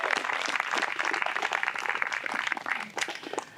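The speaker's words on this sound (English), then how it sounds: "Let's give our fourth graders a round of applause before they've even sung today." An outdoor audience at a historic battlefield dedication claps for a group of elementary school fourth graders, a continuous crackle of many hands fading slightly toward the end.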